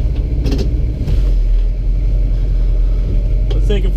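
A 1947 Studebaker Champion car engine running, heard from inside the car as a loud, steady low rumble with a few clicks and rattles on top, while a voice speaks briefly over it.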